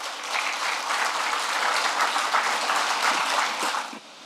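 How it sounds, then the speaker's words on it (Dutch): Audience applause at a ceremony marking the site of a new eye hospital in Suriname: dense, steady clapping from a crowd that holds for about four seconds, then cuts off sharply. "Mag ik daarvoor alvast een applaus?"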